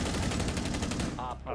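Gunshots from a shooter video game: a rapid machine-gun-like burst of evenly spaced shots, loud and close, cutting off as a voice briefly speaks at the end.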